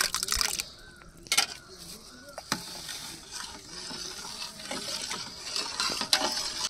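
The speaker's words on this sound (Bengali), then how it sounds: "আর অনবরত নাড়তে হবে, না হলে সুজিটা কিন্তু দলা বেঁধে যেতে পারে।" A spoon stirs semolina payesh with cashews and raisins in a pot, giving soft intermittent scraping and clinks at moderate distance, with a few sharper knocks and a steady faint background hiss.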